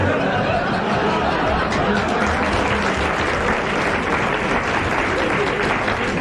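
Dense, steady applause from a 1992 French TV studio audience fills the whole stretch at full volume, with a little chatter and laughter mixed in.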